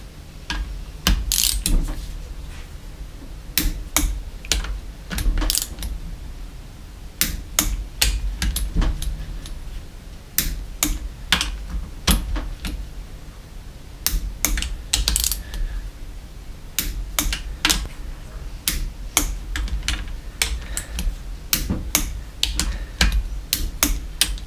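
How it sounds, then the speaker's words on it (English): Large wrench ratcheting on the engine of a neglected 2003 KTM 250 SX motorcycle, giving rapid metallic clicking bursts in repeated runs with short pauses between, loud and close in a quiet workshop. "for the last 27, I've got my big wrench"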